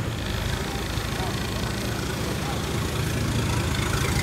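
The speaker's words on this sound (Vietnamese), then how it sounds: "Này động cơ 6 máy nha." A six-cylinder, 185-horsepower inboard engine on a 7.7-metre speedboat under test: a steady low rumble that holds constant throughout.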